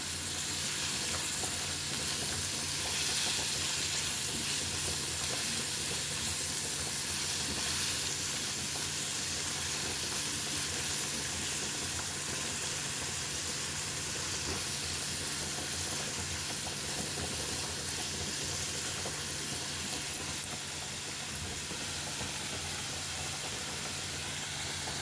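Eggplant pieces (vankaya) frying in a pan with salt and turmeric, giving a steady, dense sizzle and hiss that continues evenly throughout with no talk.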